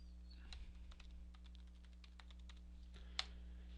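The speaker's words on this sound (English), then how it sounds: "type in our password" Keystrokes on a computer keyboard as a password is typed during a software install on Fedora Linux, a quiet, steady run of light clicks over a low hum, with one sharper tap near the end.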